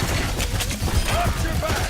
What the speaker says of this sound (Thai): กดชิปจะเป็นระเบิด ซึ่งระเบิดนี้จะไม่ทำดาเมจกับเรานะครับผม แต่ทำดาเมจกับศัตรูครับ